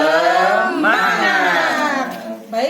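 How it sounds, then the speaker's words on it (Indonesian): A group of women at a savings training session chant together in a 'tepuk semangat' clapping cheer, with loud, close, overlapping voices rising in unison for a few seconds. "Ayo bareng-bareng kita tepuk semangat ya bu"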